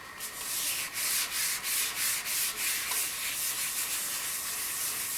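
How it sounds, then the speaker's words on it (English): A wood lathe spinning a walnut live-edge platter while it is sanded with microfine paste, a steady abrasive hiss with a faint rhythmic pulse from the unbalanced piece turning slowly. "I'm now going to turn the lathe on slow speed."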